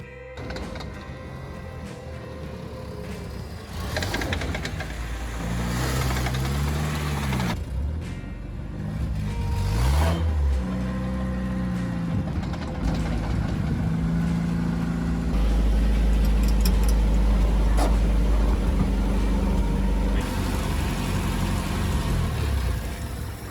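Barn-find Series Land Rover engine running on its first drive, a rough mid-pitched drone rising and falling with revs, accompanied by rattles and mechanical whine for over twenty seconds.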